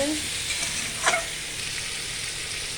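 A spatula stirs food frying in a pan, with a continuous close sizzle and one sharp scrape of the utensil about a second in, and no voices.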